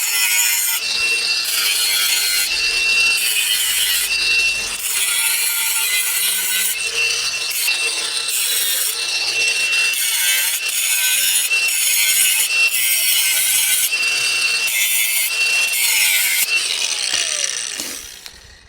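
A power tool grinds steadily into a thick steel axle tube on a Chevy air ride suspension build in a garage, a loud, continuous, harsh cutting noise that fades out at the end.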